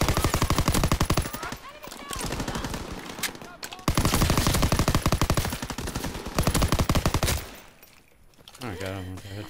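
Dense automatic gunfire rattles loudly in Call of Duty WWII, long rapid bursts broken by brief pauses, with shouted voices mixed in and a quieter stretch near the end.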